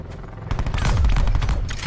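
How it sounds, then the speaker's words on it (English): Players shoot each other in the video game Call of Duty: Blackout, and after a brief lull a loud, continuous burst of overlapping gunfire erupts. "Oh, they're shooting each other."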